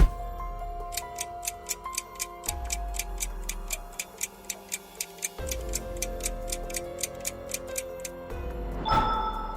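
Steady clock ticking runs as a countdown at a regular pace under a soft background music bed, each tick crisp and bright, ending in a brief swell.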